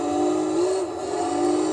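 A Renault Clio race car in Gran Turismo 3 accelerates hard, its engine note loud and steady, climbing briefly in pitch before settling into a sustained high drone.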